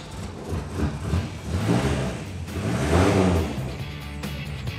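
A vintage Ford Escort Mexico engine runs and revs close by, rising and falling in a few throaty surges with a deep, rumbling idle between them.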